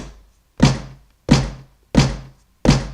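Four deep, punchy snare hits built from layered AK-47 gunshot and missile strike samples, tuned low with a long decaying tail, evenly spaced and loud with no other sound between them.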